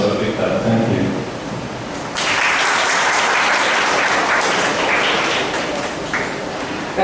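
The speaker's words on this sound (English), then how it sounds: "so a big clap" Audience applause at a Shanghai–Hong Kong debating competition; after a brief murmur the clapping breaks out suddenly, loud and dense, and holds steady to the end.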